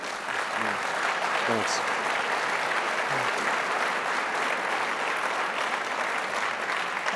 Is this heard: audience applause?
yes